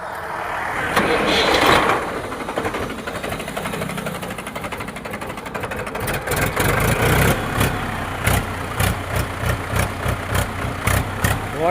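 A Mahindra 275 DI tractor with oil brakes cranks and fires up, then settles into a loud, close diesel chug with a rapid, rhythmic knocking beat.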